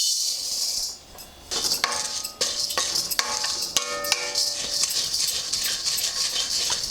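Toor dal tips into a hot pan and is dry-roasted for Andhra-style Guntur chilli lentil powder, with dry rattling grains, sharp clicks and scraping stirs against the metal.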